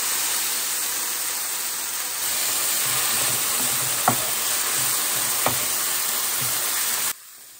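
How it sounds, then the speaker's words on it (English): Red enchilada sauce hitting a hot pan for plant-based tacos, giving a steady loud sizzle and hiss that swells slightly partway through, with a couple of faint clinks from stirring, then cuts off abruptly near the end. "I'm gonna add a half cup of this red enchilada sauce"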